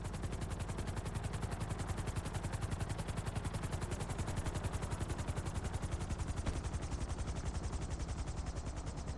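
A machine gun mounted on a helicopter fires in a long, unbroken rapid burst, loud and dense, its rattle layered over rotor noise for the whole stretch with no talking.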